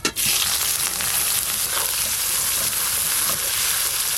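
Chopped onions hitting hot oil already seasoned with bay leaf, dried red chili and whole garam masala, giving a loud, steady, bright sizzle that holds for several seconds with faint stirring scrapes beneath.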